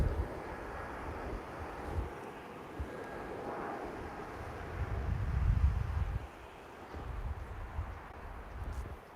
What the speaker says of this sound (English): Oh, a plane is taking off.